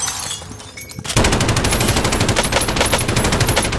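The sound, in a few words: gunfire in the video game Warzone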